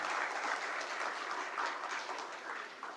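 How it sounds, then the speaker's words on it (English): A hall crowd at a school alumni association inauguration applauds a teacher, dense continuous clapping from many hands at fairly even loudness, easing a little toward the end, with no talking over it. "A big round of applause for Celestine teacher."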